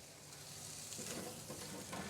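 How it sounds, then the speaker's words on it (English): Parsnip chunks sizzle steadily in coconut oil in a roasting pan, a soft continuous frying hiss with faint stirring movements, heard alone at low level. "just very simply let them cook there in the oil just for a minute, just to kind of more coat your parsnips with a little bit of the coconut oil"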